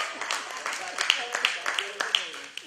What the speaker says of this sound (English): Come on and clap it up for her.